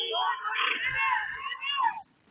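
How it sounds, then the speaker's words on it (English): Parents scream and wail together after a car plows into students on a sidewalk, a distressed, wavering chorus, fairly loud, cutting off abruptly near the end. "Parents could be heard screaming"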